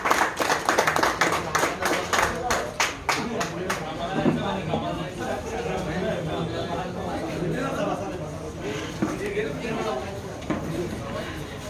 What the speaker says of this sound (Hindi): जोरदार तालियों के साथ उनका भी गौतम अभिनंदन कीजिए।